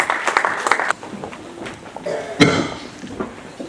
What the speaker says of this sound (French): On acclame que fort.